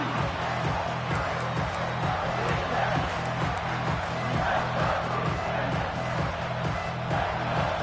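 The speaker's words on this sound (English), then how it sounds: "the crowd coming to life here, trying to help this defense down in the red zone" Crowd noise in a football video game as the defense holds down in the red zone; a steady, dense roar of cheering spectators running throughout, with a commentator's voice faintly present.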